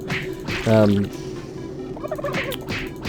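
Turkeys gobbling in the video game Super Turbo Turkey Puncher 3, one loud warbling gobble followed by softer clucks and game sounds, close and clear without talk.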